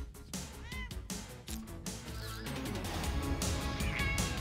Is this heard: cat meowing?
yes